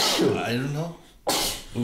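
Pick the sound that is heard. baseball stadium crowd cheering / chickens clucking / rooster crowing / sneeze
sneeze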